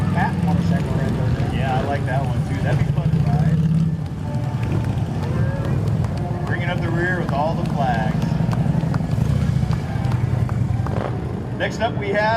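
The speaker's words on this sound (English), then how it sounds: "Looks like a fat motorcycle right there." Motorcycles in a Veterans Day parade rumble past at low volume beneath nearly constant conversation among nearby onlookers.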